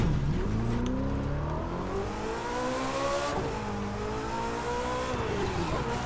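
A Porsche engine in the racing game The Crew 2 revs hard and continuously, its pitch climbing and dipping through repeated gear changes, loud and up close with a faint tire squeal and no talking.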